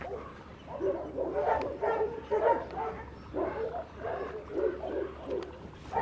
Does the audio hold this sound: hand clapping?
no